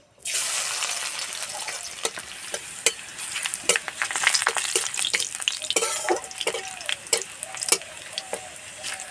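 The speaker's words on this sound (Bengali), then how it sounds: "রসুনটা ভাজা হয়ে গেছে খুব সুন্দর গন্ধ বেড়ে গেছে" Crushed garlic fries in a hot pan with a steady sizzle, broken by frequent sharp clinks and scrapes of stirring for a dry-chilli-seasoned jackfruit-seed mash, with no talk.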